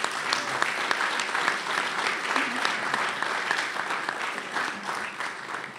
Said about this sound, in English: How about another round of applause for Admiral Zukunft?